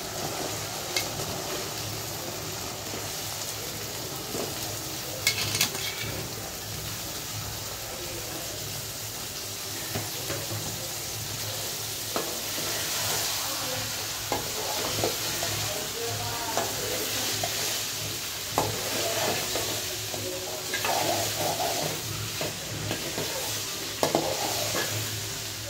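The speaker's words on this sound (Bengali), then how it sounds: "তেল উঠে গেছে, মশলাতে দিয়ে দিচ্ছি সব রকম সবজি।" Mixed vegetables fry in spiced oil, giving a steady sizzle close by with repeated scraping and clinking of a spatula stirring the pan; no voices.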